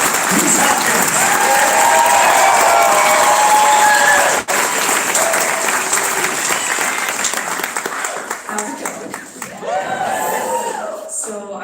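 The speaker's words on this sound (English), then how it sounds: "keep that applause going" An audience at a cancer gala applauds in loud, dense, continuous clapping that later thins as it goes on, with a few voices and cheers mixed into the crowd noise.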